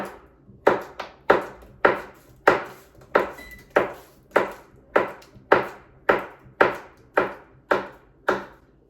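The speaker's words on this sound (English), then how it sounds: "I'm just slicing a few times and then turning the butter over and then slicing it again" A knife slices through cold butter for biscuits with about sixteen crisp, evenly spaced chops against a board, each strike sharp and close.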